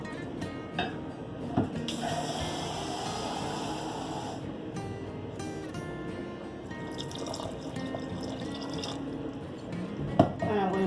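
Sea moss boils in a pot of water with bay leaf, a low steady bubbling and simmering hiss with occasional drips and soft clinks of the pot, faint background voices under it.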